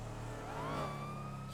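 A video game car spinning out under handbrake, a short burst of droning engine with a rising tyre-like whine sweeping up over a steady low rumble, close and fairly loud.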